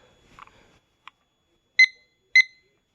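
IKEA Klockis digital timer sounding its alarm: two loud, sharp electronic beeps about half a second apart, preceded by a few faint button clicks, with nothing else around them.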